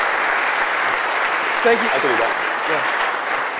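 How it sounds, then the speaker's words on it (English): Audience applause fills the room at an opening-remarks event for Thinc Iowa, steady clapping from a crowd held throughout, with a few people speaking briefly over it. "let's give those guys a round of applause"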